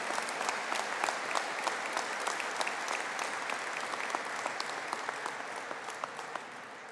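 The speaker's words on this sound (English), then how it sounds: "Can I invite you to join me in giving a round of applause to the Bachelor of Business Honours in Digital Marketing graduates." Applause for business and hospitality graduates at a conferring ceremony, even sustained clapping from a hall audience, moderately distant, with individual claps standing out and slowly tapering.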